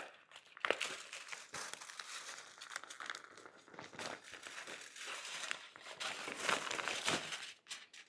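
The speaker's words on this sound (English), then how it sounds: "Let's remove the plastic around this." Plastic wrapping is peeled off a ham, with close, continuous crinkling and crackling, occasional sharp tearing snaps, and rustling that swells and fades as the film is pulled away.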